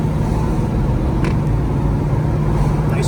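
A 1968 Pontiac Firebird with a swapped-in 403 engine driving on the road, a loud, steady engine drone and road rumble heard from inside the car, with no distinct shift break standing out.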